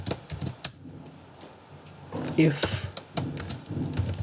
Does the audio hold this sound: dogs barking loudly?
no